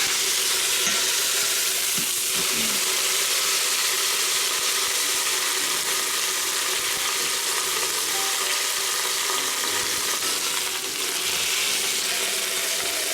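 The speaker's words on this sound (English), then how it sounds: "that second side has been sizzling for a few minutes" A pot roast sears in a hot pan before going into an Instant Pot, giving a loud, steady sizzle throughout with a few soft clinks early on.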